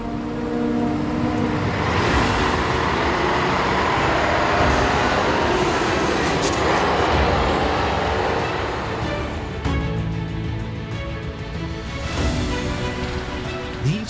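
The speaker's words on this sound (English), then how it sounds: "These camouflage lorries already made an appearance in the first video." A robust military camouflage lorry works on a large arable farm. A loud, heavy engine drone runs throughout with rumbling and hissing bursts, close and continuous with no talking.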